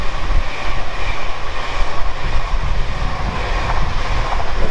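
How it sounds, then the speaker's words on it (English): A Pendolino tilting train passes at speed on the fast line near Rugby, a loud continuous rushing roar with heavy low rumble and wind buffeting on the microphone throughout. "That's an up and a down Pendolino. This one's on the up fast."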